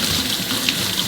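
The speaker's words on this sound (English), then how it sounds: "we can turn it off, turn it back on, just like any faucet" Steady stream of water running from a Brizo Odin touch-activated kitchen faucet, a continuous close hiss that holds level for about a second, with no talking.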